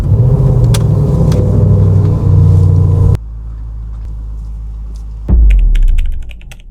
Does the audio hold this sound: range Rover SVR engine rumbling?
yes